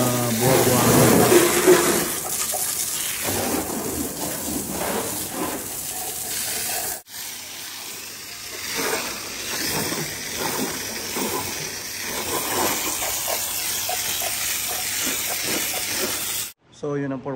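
Water sprays steadily onto a Tesla Model Y at a car wash, a broad continuous hiss that is louder at first and then eases. A voice talks at times over the spray, and the sound cuts off sharply just before the end.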